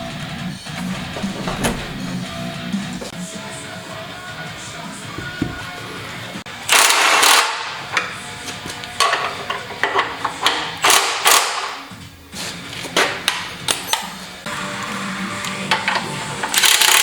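Ratchet tightening the rear subframe bushing bolts on a Nissan SR20-powered Eclipse, bursts of rapid close clicking in short runs with pauses and clanks of handling metal parts, no speech.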